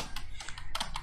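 A computer keyboard clatters with quick, steady keystrokes as a layer name is typed in photo-editing software, close and continuous with no talk.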